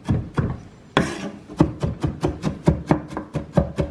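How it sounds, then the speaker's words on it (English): A chef's knife rocks rapidly over finely minced onion on a cutting board, a steady run of about a dozen crisp, close taps following a brief scraping pass. "I'm just gonna run my knife back over it a couple more times until we have very fine pieces of onion."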